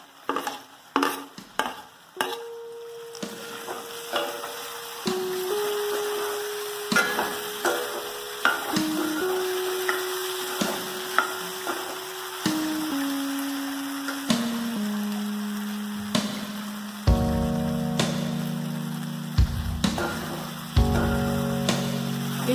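Vermicelli pulao fries in a pan with green chili added, a steady sizzle broken by frequent scraping stirs and clinks of the spoon, close and continuous with a tonal hum running underneath.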